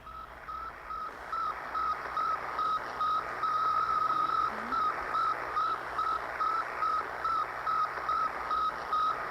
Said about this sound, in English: It's the radio signal transmitted by the Soviet Sputnik.